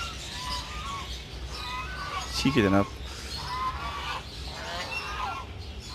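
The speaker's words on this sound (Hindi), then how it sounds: "ये टर्की और ये बत्तख है" Ducks and turkeys in a large farm bird enclosure give occasional honking calls and a short gobble-like burst, heard nearby under someone talking throughout.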